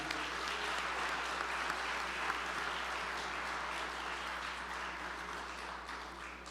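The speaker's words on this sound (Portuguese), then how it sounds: "Uma salva de palmas para minha família." Steady, dense applause from a crowd, holding at an even loudness throughout with no voices rising above it.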